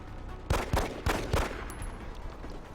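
Pistol gunfire in XCOM: Long War: four sharp, close shots in quick succession over a low game ambience, followed by a brief faint high tone.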